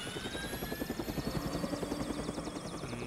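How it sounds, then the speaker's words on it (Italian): A helicopter in the video game Toy Soldiers whirs with steady, rapid rotor chopping, loud and close, alone without any voices for the full few seconds. "Utilizziamo l'elicottero, se non si blocca mezzo mondo."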